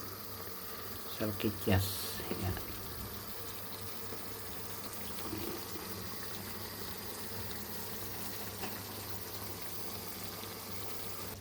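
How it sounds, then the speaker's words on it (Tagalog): Water poured into a hot pan of sausages with tomato and peas gives a brief sizzle and splash, then a low steady bubbling and hiss while a person speaks. "Lagyan natin ng kaunting tubig para maluto yung"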